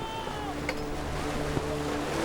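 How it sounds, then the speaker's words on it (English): Wind and sea surf around a sailing ship, a steady broad wash of waves and gusting air with faint creaks, moderately loud and continuous with no talk. "The wind's getting up again."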